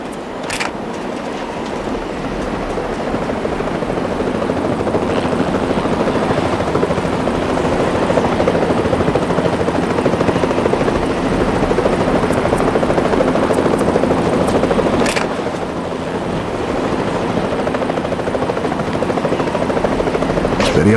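Helicopter rotor in the Vietnam War game Vietcong, a steady loud chopping drone that runs the whole stretch with a couple of sharp clicks over it and no talk.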